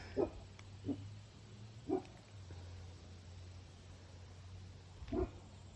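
A dog barks in a garden, four short separate barks spaced over several seconds, moderately distant and fairly faint, over a low steady hum with no talk.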